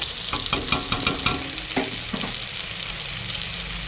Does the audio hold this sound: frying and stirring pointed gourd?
yes